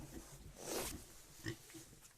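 Soft pig grunts and snorts come in a few short bursts, close by and fairly quiet, with rustling between them.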